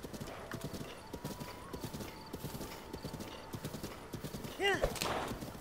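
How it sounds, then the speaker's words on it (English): Hooves of a horse in Zelda: Breath of the Wild pound in a fast, steady clip-clop, followed near the end by a loud, sharp neigh that rises above the gallop. "I got a horse."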